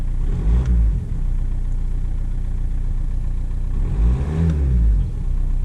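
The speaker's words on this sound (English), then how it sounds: "I'm just going to like snap the throttle here." A VW car engine idles steadily, then the throttle is snapped twice, producing two short, sharp revs a few seconds apart that rise quickly and fall back to idle.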